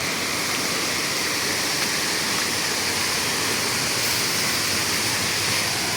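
A rushing mountain stream roars as dense, loud, unbroken broadband water noise, steady and near, with no voices over it.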